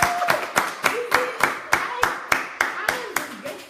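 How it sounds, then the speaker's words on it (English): People at a book review talk clapping in a steady rhythm, roughly three claps per second, close and loud, with a voice briefly heard under the claps. "Clap for yourself."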